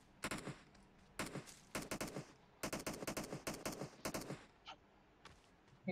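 Gunfire in the mobile battle royale game Battlegrounds Mobile India, rapid bursts of automatic shots in several clusters, fairly close and sharp, with brief gaps between volleys.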